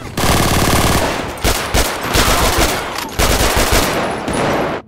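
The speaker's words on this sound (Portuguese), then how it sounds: "vou pegar aqui, ó, essa metralhadora" Loud bursts of rapid automatic machine-gun fire in GTA V, several long volleys separated by short pauses, close and harsh.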